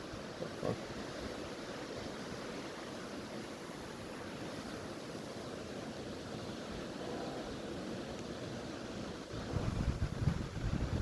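Wind and lake waves while spin fishing for pike: a steady gusty roar of wind buffeting the microphone with lapping water beneath, swelling louder in a strong gust near the end.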